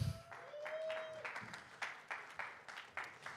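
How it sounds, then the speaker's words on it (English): Faint, thin applause from a small comedy showcase audience, scattered claps building into a sparse rhythmic patter over a few seconds. "Give them a round of applause, everybody."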